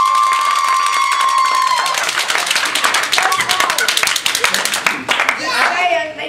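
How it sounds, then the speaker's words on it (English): Audience hand clapping at a Toastmasters district humorous speech contest, a dense rhythmic patter of many hands building to a loud round, with a voice and crowd noise mixed in under it. "There's some hand clapping going on for district stuff."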